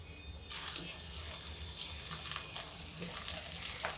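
Okra slid slowly into hot oil over a low flame, a continuous close sizzle and bubbling with faint crackles, no voices.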